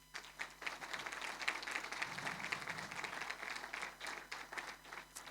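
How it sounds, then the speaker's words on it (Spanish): Faint applause from a church congregation during a sermon, a dense, steady patter of many hands clapping for several seconds, heard at a distance. "¿Cuántos le dan un aplauso al Señor?"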